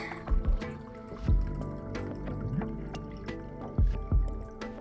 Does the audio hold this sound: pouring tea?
yes